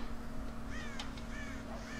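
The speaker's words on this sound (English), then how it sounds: "God damn crows!" Crows cawing in the video game Red Dead Redemption around a corn silo on a farm, several scratchy calls scattered over a steady droning game ambience, moderately distant.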